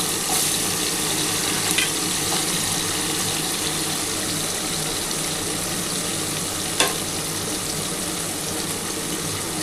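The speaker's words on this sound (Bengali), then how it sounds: "আলুটা একটু লাল করে ভেজে নিতে হবে।" Potatoes frying in hot oil for a prawn and cauliflower dish, a loud, even, continuous sizzle close by with a couple of faint clinks, no talking.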